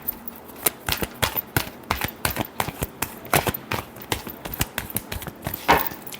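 Tarot cards are shuffled by hand in a rapid run of crisp flicks and slaps, close and clear, with no talking.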